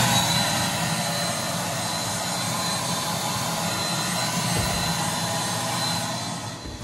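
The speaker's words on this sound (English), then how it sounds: "Since vac was one of the loudest machines in my workshop, with its ear-piercing and deafening noise" A loud workshop shop vac runs continuously with a harsh, ear-piercing roar and a steady broadband hiss, holding constant volume throughout.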